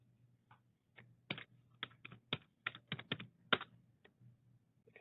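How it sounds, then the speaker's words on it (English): Keystrokes on a computer keyboard tapping out in short, irregular bursts of clicks, close and fairly crisp over a faint steady hum, with no talking. "You'll just start typing out."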